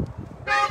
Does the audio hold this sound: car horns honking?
yes